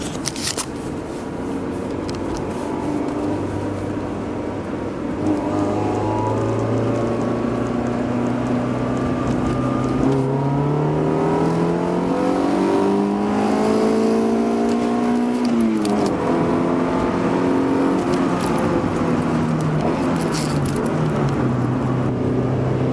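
Honda Civic EC9 accelerating in second gear from about 50 km/h, a loud engine note climbing steadily in pitch over a sustained pull, heard from inside the car with no talk.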